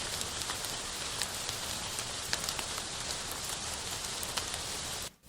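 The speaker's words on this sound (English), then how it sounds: "lots of rain" Heavy rain pours down in a steady, dense hiss with scattered sharper drop impacts, continuous and fairly close until it cuts off at the end.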